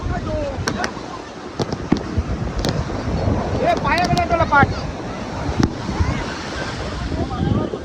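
High-tide sea waves surge and crash at a Konkan beach in Vengurla during a Ganesh idol immersion, a continuous churning surf with wind noise, sharp cracks of fireworks and a crowd of voices talking and calling over it.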